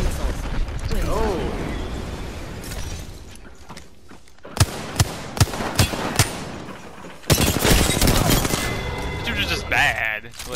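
Video game combat with rapid gunfire and missiles firing: sharp punchy shots and booming bursts in quick succession, loud and close, with players talking over the action.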